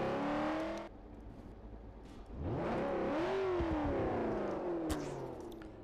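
A car in the Garry's Mod DarkRP video game idles briefly, then its engine revs hard and climbs in pitch before easing off, close and alone with no talking.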